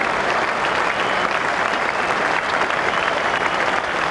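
A cricket crowd applauds and cheers Graham Hick's half-century in a 1995 England versus West Indies match, a dense, steady roar of clapping from a large crowd, loud and continuous.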